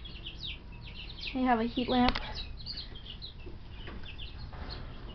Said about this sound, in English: They're all little chickies.